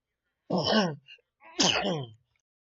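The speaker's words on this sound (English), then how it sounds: "That sneeze snuck up on me" Two loud sneezes, about a second apart, close to the microphone, each a sharp burst of breath with a voiced, wailing edge.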